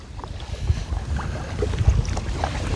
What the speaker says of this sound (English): the wind coming down that valley